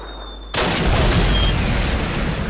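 A sudden loud blast in Call of Duty bursts in after a quiet moment, followed by a sustained roaring, rumbling wash of noise that holds to the end, no talk.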